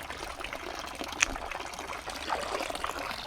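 Rainwater splashes and trickles around cassava roots being washed by hand outdoors, an irregular watery patter with a few sharper drips and no speech.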